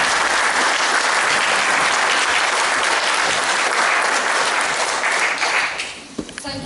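Dense, loud applause from an audience at a Burns Club supper, welcoming a speaker, sustained evenly for several seconds before tapering off into scattered final claps.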